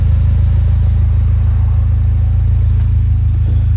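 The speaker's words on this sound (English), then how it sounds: "The sports exhaust there." A 2011 Mini John Cooper Works sports exhaust rumbles steadily at idle, a deep, loud, throbbing drone that stays constant throughout.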